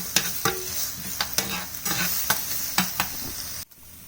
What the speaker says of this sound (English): We got some fucking onions and a little bit of bacon. We're gonna throw into this lard.